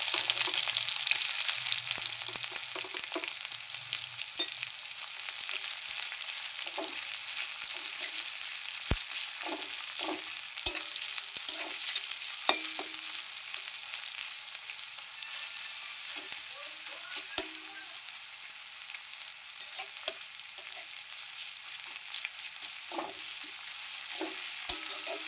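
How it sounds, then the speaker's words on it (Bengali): Chopped onion frying in hot oil, giving a continuous hiss of sizzling with scattered clicks and scrapes of stirring, close by and without talk. "পেঁয়াজ কুচি দিয়ে দিলাম,"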